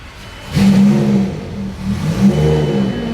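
A Lamborghini Gallardo's engine revs up sharply and stays loud and close, its mid-pitched drone rising and falling through a second surge, with no talk over it.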